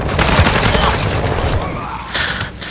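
Gunfire in Call of Duty: Modern Warfare II, rapid loud bursts of shots and impacts in a fast cluster, with game effects and a voice mixed underneath.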